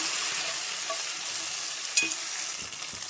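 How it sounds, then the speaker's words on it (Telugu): Mint and coriander leaves frying in a pan for a dhaba-style paneer butter masala give a steady, close hiss and sizzle with brief stirring scrapes, alone without talk. "పుదీనా, కొత్తిమీర కూడా బాగా ఫ్రై కావాలి."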